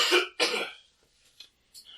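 A person coughs twice in quick succession, harsh and close, followed by a small throat-clearing rasp and a brief raspy breath, all within a couple of seconds.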